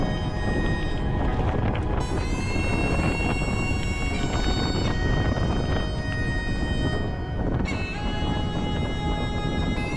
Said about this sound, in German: Ist schon ein bisschen windig hier, wa?